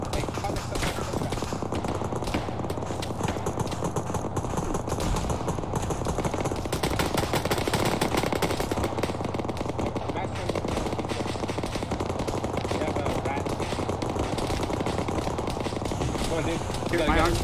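Sustained automatic gunfire from an Arma 3 battle rattles in dense bursts for the whole stretch, loud and near, with players talking over the shooting.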